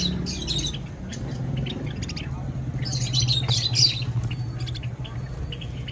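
Pink mosaic canaries chirp and tweet in quick bright bursts over a low steady hum, moderately close, with short clusters of calls spread throughout.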